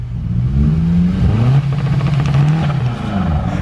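A Subaru STI doing a small burnout in snow, its engine revving loud and steady with a low droning roar that rises and falls slightly, close by with no talk.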